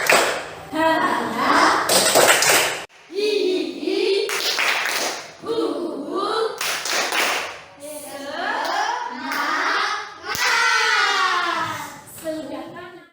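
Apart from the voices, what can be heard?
schoolchildren doing the 'tepuk semangat' rhythmic clapping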